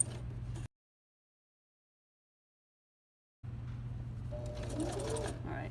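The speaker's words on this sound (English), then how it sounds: "I forgot to mention I'm sewing it on at 3/8 of an inch." A sewing machine stitching a seam on a child's zippered coverall, a short run of close, steady whirring, then silence, then the machine running again with faint background sounds.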